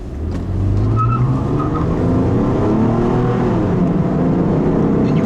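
A 2010 Toyota RAV4 with a V6 engine accelerating hard, its engine note climbing steadily and loudly from inside the cabin with no talk over it.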